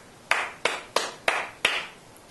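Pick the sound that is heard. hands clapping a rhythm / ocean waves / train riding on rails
hands clapping a rhythm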